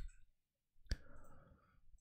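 One quiet, sharp computer mouse click while working in Figma, standing alone against near silence with faint room noise around it.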